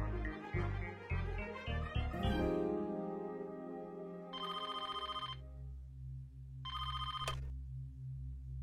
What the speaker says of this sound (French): c'est le directeur de Gunjan au téléphone.